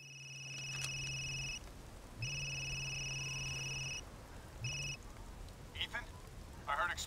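In Resident Evil Village, a telephone rings with a repeating electronic trill in three bursts, two long and one short, with faint clicks and rustles from the game scene between and after the rings.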